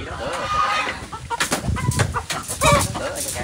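Chickens, including a small yellow hen and a black one, cluck and squawk in bursts at a countryside home in Vietnam, close and fairly loud, with scuffling noise between the calls.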